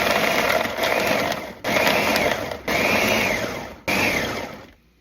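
A blender pulses frozen cranberries in four loud bursts, each roughly a second long and separated by brief cuts, with the motor pitch dipping as the blades chew through the fruit before it stops.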